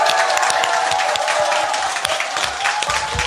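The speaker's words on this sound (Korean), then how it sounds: "국민TV 시사 토크쇼 여러분의 힘찬 박수로 출발하겠습니다" A studio audience gives loud, continuous applause and some cheering at the opening of a Korean current-affairs talk show. The clapping is dense and steady, with no speech over it.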